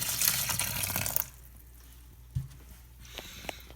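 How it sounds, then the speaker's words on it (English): Water splashes into a houseplant pot for about a second, a loud wet gush that stops abruptly, followed by near silence with a small knock and faint drips. "So I'm going to add a little bit more water in there."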